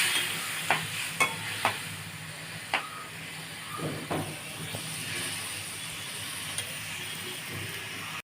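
Water is poured into a pan of frying taro and fish curry, a steady hiss and sizzle with a few sharp clinks and scrapes early on, close by and fairly quiet.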